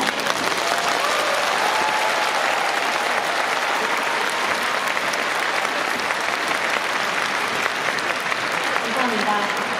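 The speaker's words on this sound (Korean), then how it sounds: "여러분, 뜨거운 박수로 맞아주셨으면 좋겠습니다" Sustained, dense applause from a large audience fills the hall at an anniversary celebration performance for the PyeongChang Winter Olympics, steady and loud throughout with faint crowd murmur beneath.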